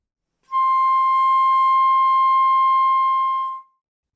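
A flute holds a single third-octave C natural, a pure, steady high tone lasting about three seconds with a clean start and gentle release, close and alone.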